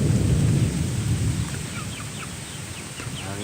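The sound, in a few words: rainstorm with strong wind and thunder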